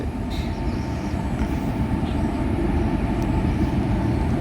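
A train rumbles past with a dense, steady low roar and rattle, loud and close for the whole stretch.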